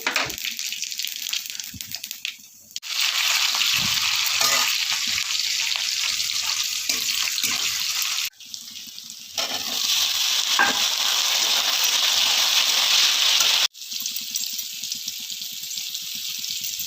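Cauliflower and potato frying in a pan give off a loud, steady sizzle that carries on for long stretches, with a few brief dips where the hiss drops back before surging again.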